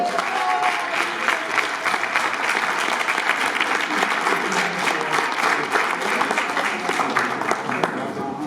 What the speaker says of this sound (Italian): Un forte applauso alla nostra Irina che si aggiudica Miss Cinema Veneto